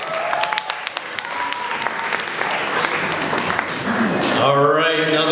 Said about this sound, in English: Let's give all our sponsors a round of applause.